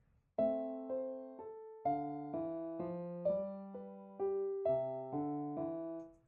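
Piano plays a phrase from Krieger's Minuet in A Minor alone, sustained notes and chords, a rising figure answered by a lower reply, evenly paced and fairly close.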